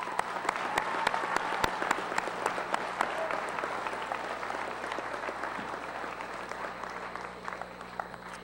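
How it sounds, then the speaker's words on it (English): A school audience at a Veterans Day assembly applauds honored service members, dense, sustained clapping from many hands heard at a moderate distance, with no voices over it. "Please give them a round of applause"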